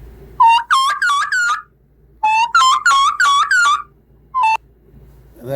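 Wild turkey kiki calls played back from a phone hunting app: clear, high whistled peeping notes in two runs of four to five rising whistles, then a single short note, alone and close.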